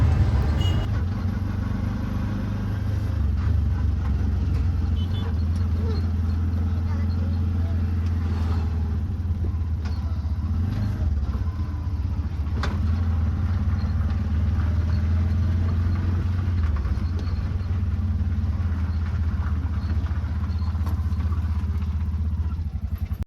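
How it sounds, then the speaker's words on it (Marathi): A car engine idles and rumbles steadily up close while the vehicle is parked near a temple, with low drone and occasional clatter throughout, under some faint background voices. "आता गाडी पार्क करूया आपण."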